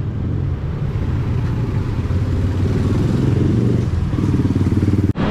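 Busy road traffic with motorcycles and cars makes a loud, close, continuous engine rumble with a throbbing low growl, broken by a brief clatter near the end.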